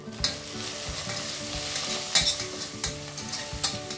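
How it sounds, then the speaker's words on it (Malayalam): Egg biryani masala is stirred in a pot with a spoon, giving several sharp scraping strokes over a steady background sizzle, close and fairly loud with no talking. "പാകത്തിനുള്ള ഉപ്പും കൂടി ഇട്ട് ഇളക്കി കൊടുക്കാം."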